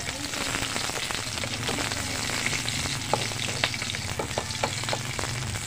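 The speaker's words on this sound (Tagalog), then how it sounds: "Isusunod na natin agad-agad ang ahos kasi mainit na ang ating kawali." Garlic hits a hot wok and fries, giving a dense, steady sizzle with crackling pops scattered on top, close and continuous without talk.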